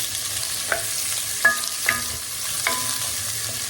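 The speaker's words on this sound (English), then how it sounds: "Oh, and do that nice frying sound." Onion sizzles steadily in hot oil, and a few soft scrapes of a stirring utensil sound against the pan.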